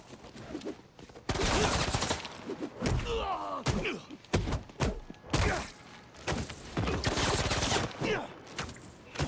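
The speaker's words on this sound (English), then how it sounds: "Stop shooting at him." Bursts of gunfire in the superhero game Spider-Man 2, loud rapid volleys and thuds at close range broken by short pauses, mixed with impacts and game effects.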